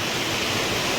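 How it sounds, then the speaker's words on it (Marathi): Heavy rain falls at Pratapgad fort near the temple, a dense, even hiss that fills the whole brief moment without any break. "पण पाऊस आता खूप जास्त आहे"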